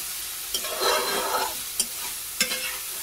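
Spice paste frying in oil gives a soft, continuous sizzle, with a few sharp scrapes and clinks from a spoon stirring it in the pan, close and moderately loud, without speech.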